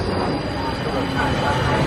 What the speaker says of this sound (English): Made it on my way to the airport on the train